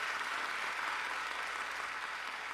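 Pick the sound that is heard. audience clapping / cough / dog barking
audience clapping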